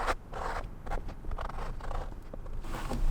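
Scissors cut through thrifted bedsheet fabric while a pocket opening is made for overalls. Several close, crisp snipping and rustling strokes follow one another with short gaps.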